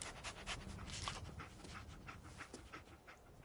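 A dog in the video game Fallout pants rapidly and steadily up close, quick breathy huffs repeating without a break.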